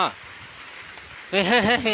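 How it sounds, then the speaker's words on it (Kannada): Rain beginning to fall outdoors near a shed, a soft, steady hiss that runs through the first part, then a loud nearby voice speaks over it. "ಶುರುವಾಯಿತು ಶುರುವಾಯಿತು ಮಳೆ ಬಂತು ಮಳೆ ಬಂತು"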